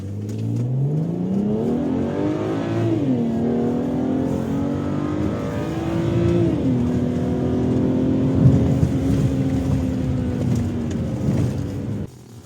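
A BMW 335 accelerating hard from a standstill toward 100 km/h with stability control switched off, its engine note rising loudly through the revs, dipping at two gear changes, then holding a strong steady pull until cutting off at the end.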